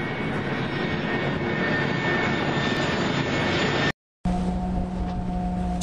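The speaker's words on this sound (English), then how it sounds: "Aeroplane." An aeroplane's engine roars with a steady broadband drone, loud and continuous, with a short break before the noise resumes with a steadier hum.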